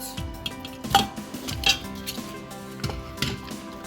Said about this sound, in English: I'm just adding the meat into the pot.